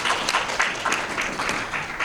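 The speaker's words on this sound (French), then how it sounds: "je voudrais qu'on applaudisse encore très très fort pour cette université féministe-là" An audience at a feminist university event applauds. Several seconds of moderate, steady clapping are heard from the crowd, with no voices over it.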